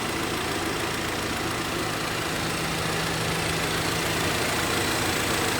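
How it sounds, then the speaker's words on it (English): A car engine idles with a steady, even hum and constant broadband noise throughout, no revving or changes. "listen to the hum of the engine before we even go for the test drive"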